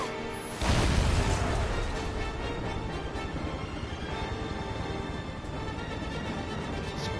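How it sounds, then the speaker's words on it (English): An explosion erupts in Final Fantasy VII with a sudden loud boom, then gives way to a sustained, rumbling wash of blasts and debris that slowly settles but stays dense. "Explosions."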